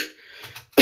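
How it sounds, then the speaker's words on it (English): One person gives a single sudden, harsh cough at the very end, loud and close, after a near-silent moment with faint background murmur. "I'm also coughing my lungs out"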